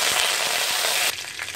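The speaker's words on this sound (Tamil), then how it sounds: "கருவேப்பிலை, 8 சின்ன வெங்காயம் நல்லா ஃப்ரை பண்ணிக்கோங்க" Curry leaves and small shallots frying in hot coconut oil in a kadai, a loud, dense, steady sizzle that drops off abruptly partway through.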